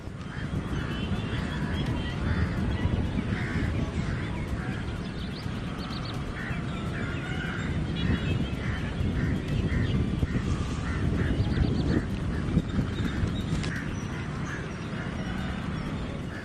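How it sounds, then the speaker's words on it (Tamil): Water birds, including storks and waders, flock over salt pans to feed on small fish and insects. Their honking and quacking calls carry repeatedly across a continuous, busy outdoor background of moderate loudness. "சிறிய மீன்கள், பூச்சிகள் உள்ளிட்டவற்றை உண்ண நீர் பறவைகள் படையெடுத்துள்ளன"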